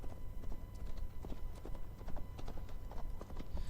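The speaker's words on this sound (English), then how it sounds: "He's a pretty good horse." Horse hooves from the video game Assassin's Creed Valhalla clip-clop at a steady walking rhythm, close and fairly quiet, with no talking.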